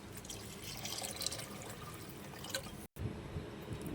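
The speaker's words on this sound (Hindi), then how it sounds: "अब मैं इसमें तकरीबन 1 लीटर पानी डाल दूंगी।" About a litre of water is poured into a cooking pot for Afghani pulao, a steady soft splashing and trickling that is faint and continuous, with a brief dropout near the end.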